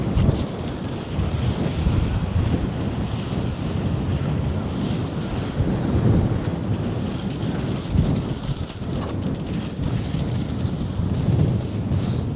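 Harsh, steady wind roaring across an Arctic mountain peak in Norway, buffeting the microphone with continuous low rumbling gusts, loud and unbroken from start to finish.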